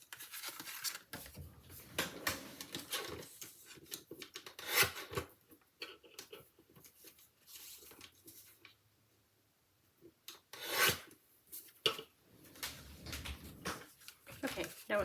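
Scissors trim a layer of card stock down to size for a handmade layout card, giving intermittent close rasping snips and rubs with pauses between cuts.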